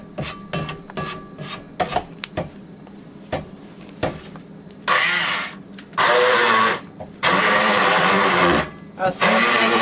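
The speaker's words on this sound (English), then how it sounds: "I'm just going to stick the hand blender in there, zip, zip, zip, and break them down that way" Hand blender puréeing beans for a flourless chocolate cake, several loud buzzing bursts of a few seconds each, mixed with clattering and rubbing kitchen sounds.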